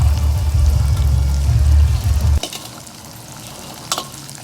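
Prawns tossed in spiced masala in hot oil, first a loud stirring sizzle with scraping for a couple of seconds, then a quieter background fry with a sharp clink near the end.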